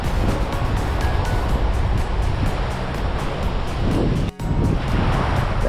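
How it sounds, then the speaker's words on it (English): Surf washes steadily onto a beach on Koh Samui, a continuous broad roar of breaking waves mixed with wind buffeting the microphone and no voices. "It's not my beach, but I consider it my beach. My favorite beach."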